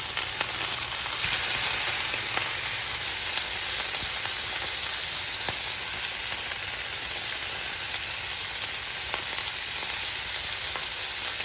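Ground beef fries in hot oil in a pan over medium-high heat, giving a steady, loud sizzle that runs throughout with faint clicks and stirring.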